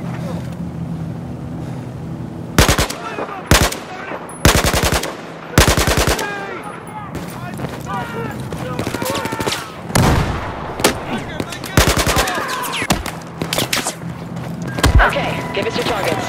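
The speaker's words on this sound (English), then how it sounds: "Heads up, firing!" Battlefield 4 gunfire crackles in sharp bursts of automatic fire, several loud clusters spread across the stretch with an engine rumbling underneath and shouted voices between the volleys.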